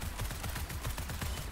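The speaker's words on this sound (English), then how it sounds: "Let's give you a little bit of a gunshot" Rapid bursts of gunfire from the action game Wuthering Waves, a quick rattling series of shots heard fairly faint and continuous for a moment amid game noise.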